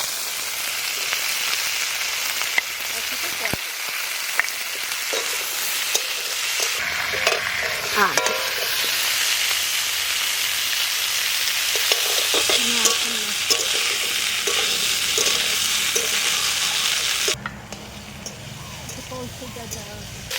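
Raw mixed vegetables and sautéed potato frying in a pan, a steady bright sizzle with scraping stir strokes throughout, dropping to a quieter simmer near the end.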